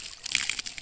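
Water pours and splashes close by in a short, sloshing burst with a few uneven trickles and splatters.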